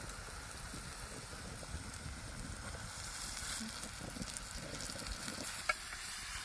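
Marinated mutton keema fries and is stirred in a pot over onions and spices, giving a continuous close sizzle with scraping stirring strokes and a sharp clink near the end, with no talking.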